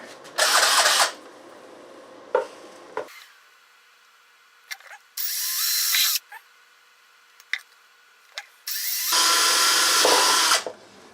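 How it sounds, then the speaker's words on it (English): Several high-pitched bursts of a power drill boring into metal, each lasting a second or more, separated by quiet pauses and small clicks and knocks. "I'm gonna go drill the two holes here"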